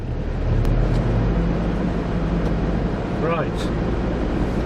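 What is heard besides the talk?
Land Rover Discovery 2 on a test drive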